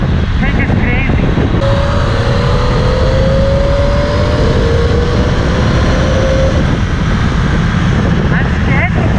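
A Triumph Tiger 800 XRX motorcycle roars on a test ride in India, loud engine and wind rushing close up under a rising engine tone, while the rider talks.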